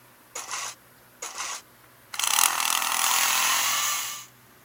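A power drill whirs in two short bursts, then runs in one long, loud continuous spell before stopping, heard up close with no talking.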